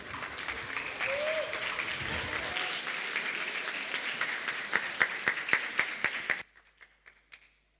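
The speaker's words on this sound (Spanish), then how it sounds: "Recibámonos con un fuerte aplauso a los jóvenes." Church congregation at a Christmas service applauding young dancers, a dense wash of clapping that thins into scattered sharp claps before stopping abruptly, with a few stray claps after.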